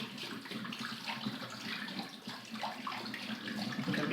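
Hot water is poured out of a plastic jug, giving a steady, splashing gush that runs for several seconds at moderate to faint loudness with no talking.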